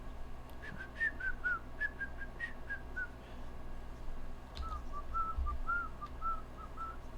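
A person whistles a melodic tune alone, bright warbling notes in phrases with a short pause midway, steady over low room hum.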